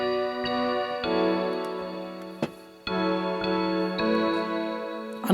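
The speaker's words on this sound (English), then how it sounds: "So there were the keys, which sound like this" Recorded keyboard part from a Nashville session plays back in a music project, sustained chords struck in a steady rhythm with a few sharp percussive ticks between them, clear and alone.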